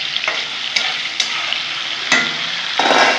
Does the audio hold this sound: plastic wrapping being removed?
no